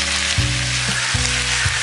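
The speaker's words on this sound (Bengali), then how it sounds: "এখন আমি ভালো করে ভাজা ভাজা করে নেব।" Food sizzles loudly in a pan with turmeric and salt, a constant close frying hiss broken by a few scraping stirs, with no voices.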